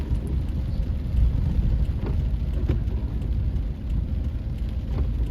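Heavy rain falls during flooding in Sakon Nakhon, a dense, steady hiss and wash of water with low rumbling underneath, continuous and fairly loud throughout without any talk.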